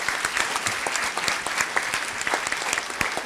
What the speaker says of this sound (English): let's give our panelists another round of applause for a great